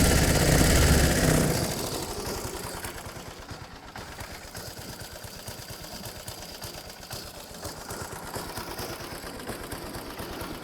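A 1919 Grafton cyclecar engine runs in first gear with the car raised on stands, a steady rapid mechanical chatter and drone after a louder opening burst, close and without talk.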